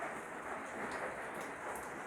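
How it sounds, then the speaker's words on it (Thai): Steady rain hiss, a dense even wash of falling water with no breaks, moderately loud and close, with no voices. "วันนี้ฝนตก"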